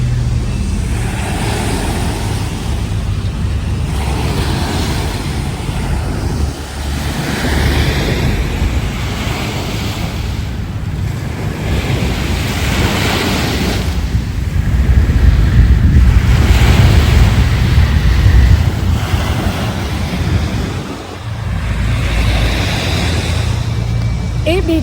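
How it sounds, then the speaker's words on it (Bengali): Surf rolls and breaks along Pattaya Beach in a continuous broad roar, with gusts of wind buffeting the microphone and swelling louder toward the middle. "এটা হচ্ছে Pattaya beach, very famous Pattaya beach"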